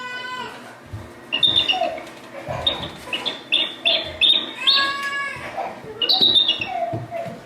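Birds give screechy, whistling calls in quick bursts, a run of harsh tweets and chirps close by that rise and fall in loudness with short gaps between them.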